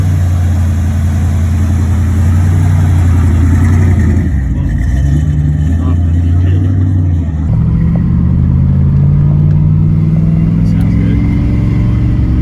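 A big black Chevrolet Corvette at a Scottsdale auction sits running loud and close, its deep engine idling and then revving upward in stepped surges while people talk nearby.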